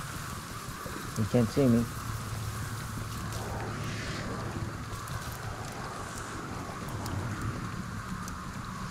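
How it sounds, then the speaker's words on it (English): Steady rain falls in the video game GhostWire: Tokyo, a constant broadband hiss throughout, with a voice speaking briefly over it early on. "it's raining again."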